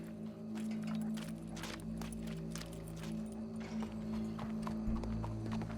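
Horse hooves in the video game Red Dead Redemption 2 clip-clop in a steady walking rhythm at moderate distance, over a low ambient hum, with no clear whinny standing out.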